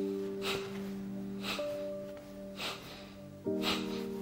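Forceful exhalations through the nose as part of a breathing exercise, four short sharp puffs spaced about a second apart, close and soft, over a faint steady musical drone.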